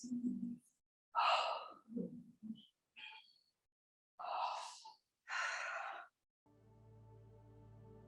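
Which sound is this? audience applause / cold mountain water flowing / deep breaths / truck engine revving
deep breaths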